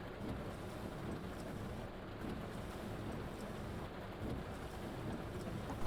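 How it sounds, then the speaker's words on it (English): Steady rain and wind-like wash on a bus in the driving video game The Bus, a faint continuous hiss with no distinct events. "The rain sounds quite good as well."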